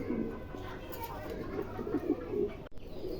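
Fancy Beauty Homa pigeons coo softly at a pigeon farm, their low rolling calls close by and mixed with someone talking over them.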